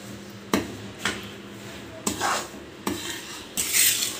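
A spoon scrapes and knocks against a pan while pure desi ghee is stirred into besan laddu mixture, giving several separate clinks and scrapes over a soft background, close and fairly loud.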